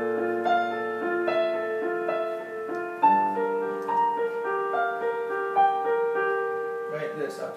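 Piano notes played at a moderate pace, a steady series of melodic tones over held lower notes, clear and close with no talking.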